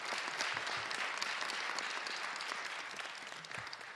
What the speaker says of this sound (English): Can we give a round of applause for everybody?